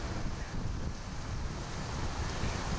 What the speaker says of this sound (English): Wind getting even stronger.